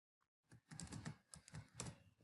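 Quick, light tapping on a computer keyboard while entering an email subject line, a short close burst of several soft keystrokes after a brief silence.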